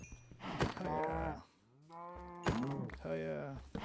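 Cows in the Minecraft video game give long, low, droning moos with a short pause between calls, heard close and fairly loud while a player talks briefly nearby.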